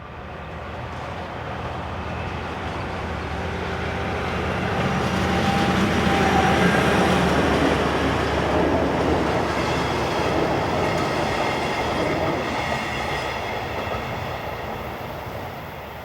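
Railcar 418-312 runs from Pécs to Szombathely, a steady broadband rumble of wheels and engine swelling as it nears and passes, then easing off slightly, with faint rhythmic rail clatter and no voices.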